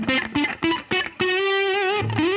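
An electric guitar plays through a modified Ibanez Sonic Distortion pedal with delay, giving a thick, buzzy tone: four short picked notes in quick succession, then a long sustained note that rings out before a final change of pitch.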